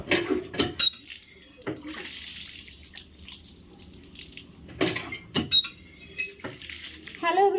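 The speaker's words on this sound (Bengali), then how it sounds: "কলপারে এসে ভালো করে হাত তাত ধুয়ে নিয়ে স্নান সেরে ফেলবো" Water splashes at a hand pump as hands are washed, with intermittent splashes, drips and clanks of metal between quieter pauses, and a faint voice in the background.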